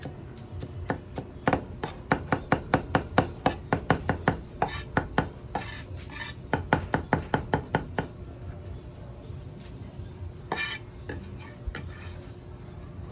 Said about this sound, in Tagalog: para naglalaro ka lang pagka sinap-chop-chop-chop mo yung ating garlic